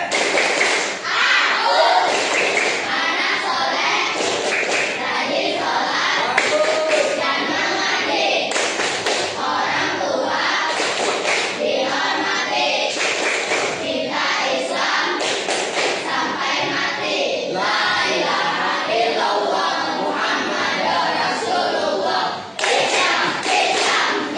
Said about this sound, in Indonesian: Tepuk anak soleh